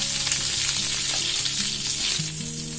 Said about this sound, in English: once our oil is heated up, we can add our tarka items, which is the zira and the kali mirchi and the kariya pak, and fry it a little bit